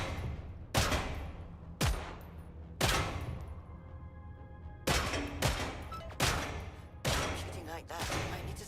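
Single gunshots fired at targets in the video game Killing Floor 3 come as about eight sharp, loud reports at uneven intervals, each leaving a short echoing tail.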